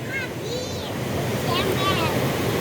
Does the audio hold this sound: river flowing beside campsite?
yes